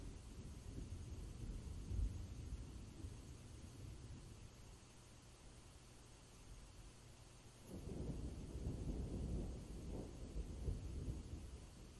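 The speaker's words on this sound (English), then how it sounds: "You hear the storm before you see it." Low rumbling thunder from an African thunderstorm rolls in over steady rain, fading for a few seconds before a heavier rumble returns, with no voices.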